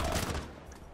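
A rapid rattle of gunfire in Call of Duty: Modern Warfare bursts out at moderate volume and quickly fades into a faint tail.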